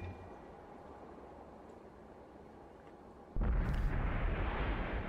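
Tank cannon shot from an IS-3 heavy tank in a competitive tank game match: after a few seconds of steady low battle rumble, a single loud close boom bursts in and leaves a heavy roar hanging.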